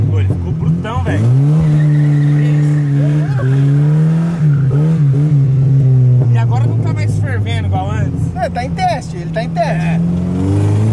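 A drift car's revving engine with rising and falling pitch during a test run, broken by brief squealing tire bursts, while people talk over it throughout.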